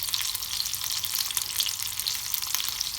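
Golden chicken kebabs fry on their second side in a pan, producing a dense, constant crackling sizzle with rapid fine spatters, close and fairly loud throughout.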